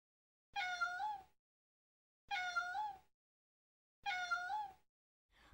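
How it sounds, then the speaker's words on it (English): Kittens meow three times, evenly spaced, each call drawn out and clear against near silence, with the start of a fourth call at the very end. "Look at the kittens."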